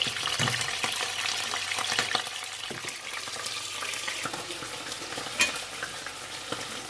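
Fermented fish (pla som) frying gently in oil without batter, giving a steady, soft sizzle with occasional light clinks of a utensil, heard up close.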